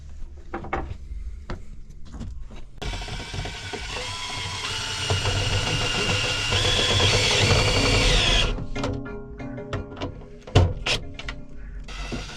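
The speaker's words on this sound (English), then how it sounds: "now we're gonna screw these screws in and mount it down" A power drill drives screws to mount a diesel heater inside a camper van, giving several short bursts and then one long whirring run of a few seconds, followed by more brief taps and clunks.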